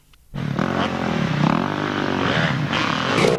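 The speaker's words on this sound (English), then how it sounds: "He was riding a green machine, a Kawasaki 250." Kawasaki 250 and Honda 250 racing motorcycles at a Maeshafn hare and hounds race. After a brief quiet start, a loud engine note rises and falls as the bikes pass nearby.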